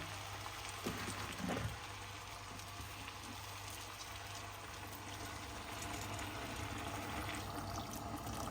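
Water pours steadily into a pan of fish, vegetables, sugar and tomato paste with a soft continuous splashing, close and moderately loud, with a brief thicker gurgle near the start.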